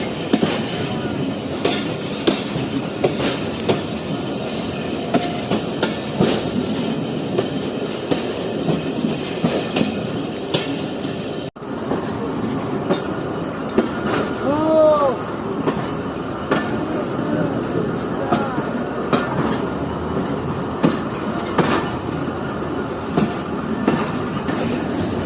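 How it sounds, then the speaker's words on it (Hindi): A passenger train rolls slowly over track under repair, with a steady heavy rumble, rhythmic clickety-clack of wheels over rail joints and brief metallic squeals, loud and close from on board. "तभी ट्रेन यहाँ पे पहले भी रुकी और अब भी स्लो क्रॉस कर रही है इस जगह को"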